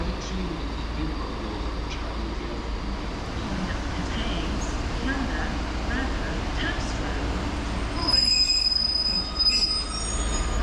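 Steady rumble of a train idling at Queen Street Station in Cardiff, with a high metallic wheel squeal rising near the end and faint voices in the background.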